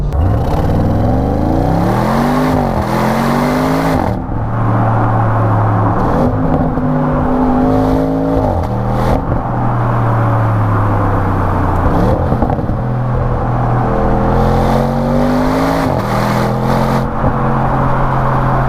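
An Audi RS6 V8 engine revs repeatedly, climbing in pitch, dropping back, then climbing again, with a loud, rumbling, continuous roar throughout.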